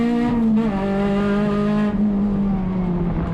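A touring race car in USTCC qualifying powers out of a chicane, its engine note loud and close as an onboard, harmonic-rich rasp rising steadily through the gear with a brief shift dip midway.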